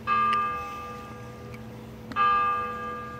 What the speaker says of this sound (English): And now we got the bell